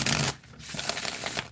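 A Heavenly Bodies astrology card deck being shuffled by hand, a close, papery riffle and rub that is loud at first, then softer and steady for a little over a second.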